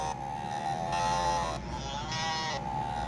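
Electronic cow mooing from a vintage Life-Like battery-powered train sound effects box, a steady tonal buzzy low with harmonics lasting about three seconds, heard alone and close, slightly thin and synthetic.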